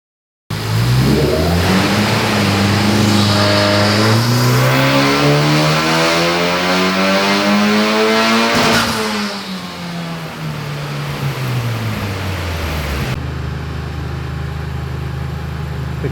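Honda Civic Type R FK8 engine revving on a dyno during tuning, a loud near engine sweeping steadily up through the rev range for about eight seconds, then dropping back to a lower drone.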